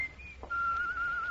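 A person whistles a short tune, one brief high note and then a longer sustained tone with slight wavering, fairly quiet in a still room.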